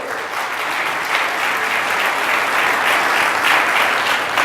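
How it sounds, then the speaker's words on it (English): An audience at a talk breaks into steady, full applause, dense clapping that swells slightly and holds for several seconds without voices. "They deserve applause."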